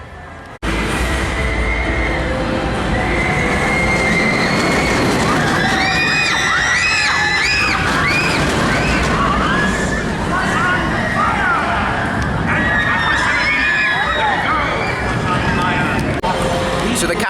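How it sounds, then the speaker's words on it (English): A Mack Mega Coaster launch ride, the Capital Bullet Train, roars continuously on its multi-launch run, with track rumble, rushing wind, and crowd screams and shouts rising and falling throughout. "This is a Mack Mega Coaster. 3 launches, it's got a multi-pass launch."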